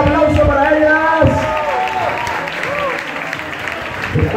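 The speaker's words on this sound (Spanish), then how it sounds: "Fuerte el aplauso para ellas." A crowd applauds after a bachata dance show, loud steady clapping with some cheering, and a host speaking over it at first before the clapping fades.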